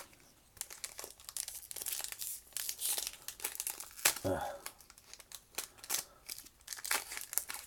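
Foil Masters 25 booster pack being struggled with and torn open, a busy run of crinkling and crackling with sharp rips spread across the whole stretch, close by, while a person talks over it.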